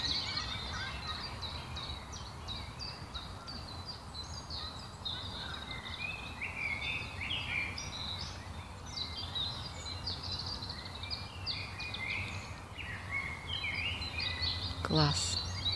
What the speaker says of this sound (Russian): будет слышно, как птицы поют